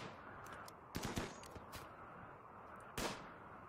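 Gunfire in the colony-building game Rimworld, with a few sharp shots spaced apart over a steady low background hum, the last one arriving alone near the end.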